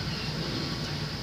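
A flatbed truck rolls past as a steady broadband rumble with a low engine drone, even and moderately loud throughout, with no pauses or talk.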